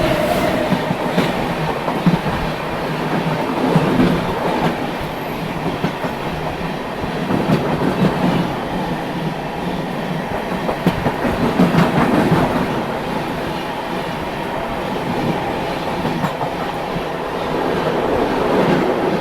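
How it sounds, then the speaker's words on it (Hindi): The Ballia LTT Kamayani Express rushes past at a crossing, a loud continuous rumble with rhythmic clickety-clack of wheels over rail joints, rising and falling as the carriages pass close by. "निफाड स्टेशन से पहले हमने क्रॉस किया बलिया एलटीटी कामयानी एक्सप्रेस को।"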